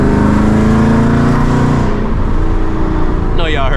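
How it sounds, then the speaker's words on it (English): A 2021 Mustang GT with stainless power headers revs loudly and steadily, its engine roar dropping off before a couple of short exhaust pops near the end. "That little second and third pop."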